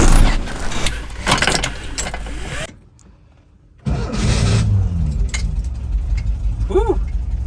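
A camper van's engine starts, then runs and pulls away, loud and close, a brief hush breaking the steady engine noise, with people talking over it.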